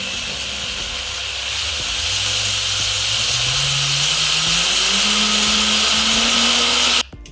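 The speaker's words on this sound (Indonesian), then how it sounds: "Oke, saatnya kita blender." A blender whirs loudly as it blends rice and water for a homemade body scrub, the motor's pitch rising steadily as it runs, then cutting off abruptly near the end.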